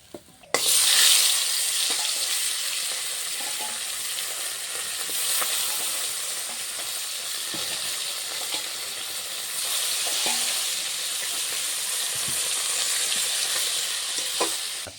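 Small whole fish fry in hot oil with a steady, loud broadband sizzle that swells and eases, and occasional stirring clinks for a fish and potato curry.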